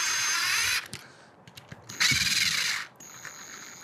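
Power drill driving screws into a lock housing, with two close, loud bursts of whirring motor separated by a short pause of small clicks and handling noises, then a brief faint whir at the end.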